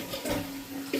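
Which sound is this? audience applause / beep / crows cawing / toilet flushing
toilet flushing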